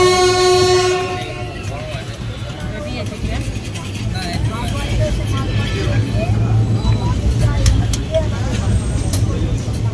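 Inside the 13466 Maldah Town–Howrah Intercity Express with ICF coaches, a horn sounds at first, then a loud, steady rolling rumble of wheels and coach rattle continues as voices talk nearby.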